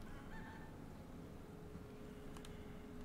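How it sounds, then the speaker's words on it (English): A chicken in the Resident Evil video game clucks briefly and faintly, sitting low under a steady bed of in-game ambient noise. "A chicken!"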